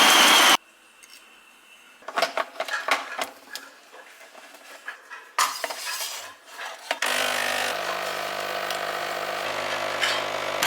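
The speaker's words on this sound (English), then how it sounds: "So if you can hear the construction in the background" Intermittent scraping and knocking construction noise in the distance, followed by a steady mechanical hum; no talking.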